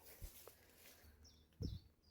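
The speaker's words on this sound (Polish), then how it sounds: "ptaszki ładnie ćwierkają" Small birds chirp faintly in an isolated, abandoned overgrown property near an old fountain and well, giving two or three brief high calls at a distance over quiet outdoor ambience and a few soft footsteps.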